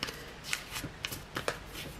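Sheets of paper being handled and folded for an origami bookmark, a dense run of crisp rustles and soft creasing flicks, close and fairly quiet with no talking.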